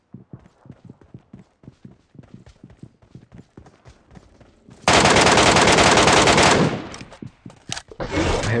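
Gunfire in the Metro Royale video game: a string of sharp single shots in quick succession, then a long, loud sustained burst of automatic fire, followed by a pause and another loud burst.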